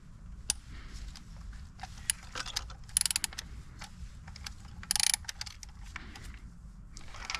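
Quick clicking bursts of a ratchet tighten a spark plug in an Audi TT, with sharp metallic ticks scattered over a quiet workshop background.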